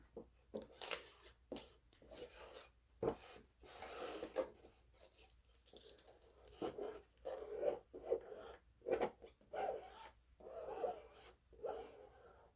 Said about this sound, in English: I've got a mini squeegee, so if you see some air pockets, you might need to go ahead and slide your squeegee over it.